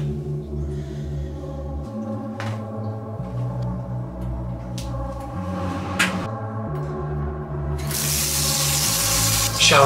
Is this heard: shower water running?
yes